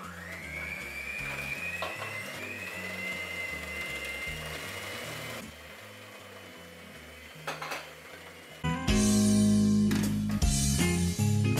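An electric hand mixer whirs steadily through butter and sugar with eggs, a close, continuous motor drone whose pitch dips as the load changes, then turns louder and harsher toward the end.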